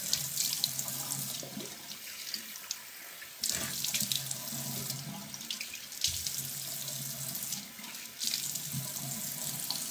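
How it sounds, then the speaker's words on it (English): Running tap water pours into a sink while a brush and a face are rinsed, a loud, steady splashing rush that shifts in tone as hands and the brush move through the stream, no talking. "I'm gonna rinse that brush, and I'm gonna rinse my face"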